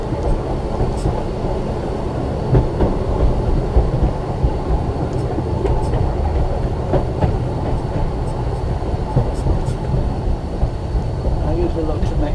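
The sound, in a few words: tram running downhill on rails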